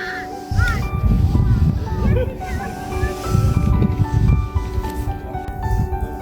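Hooded crows caw in a Kyiv park, their harsh calls repeating loudly and fairly close over a steady low rumble of city background.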